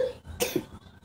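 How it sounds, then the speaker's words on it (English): A couple of quick, close coughs in a row, brief and sharp, with a quiet background and no talking. "stop coughing."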